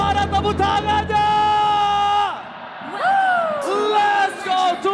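Crowd at an esports grand final in Jakarta International Velodrome cheering and yelling, loud sustained voices with shouts rising and falling, whoops swelling near the end.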